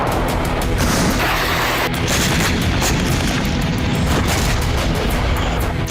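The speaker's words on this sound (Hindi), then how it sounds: "रूस ने सुत्जा पर भी बमबारी शुरू कर दी है" Continuous heavy booms and blasts from the Russian bombardment of Sudzha, loud and dense with no break, a rumbling wall of explosions filling the whole stretch.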